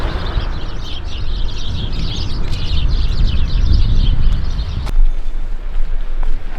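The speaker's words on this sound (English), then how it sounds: "That moment when you can hear birds and you can't see them." Many small birds chirp and twitter busily in a continuous chorus in Seefeld, Tirol, layered over a low rumble of wind or distant traffic, with one sharp click.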